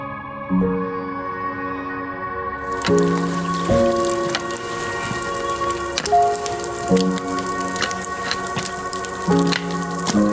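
Steady rain patters on a surface close by, with scattered louder drips and a few brief tonal knocks over the continuous wash.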